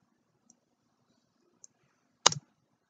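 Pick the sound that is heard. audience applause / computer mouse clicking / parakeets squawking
computer mouse clicking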